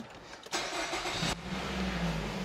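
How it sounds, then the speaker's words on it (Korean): A gasoline Renault Samsung QM5 SUV engine cranks and catches at once, then settles into a steady, low idle hum, heard up close from inside the vehicle. "시동 한 번에 잘 걸리고 있고"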